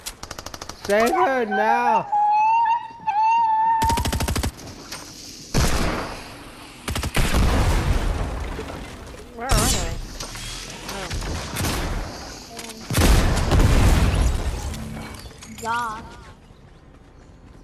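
Rifle fire aimed at enemies in a video game, heard as repeated sharp bursts of shots scattered across the clip, mixed with excited voices talking and shouting over it.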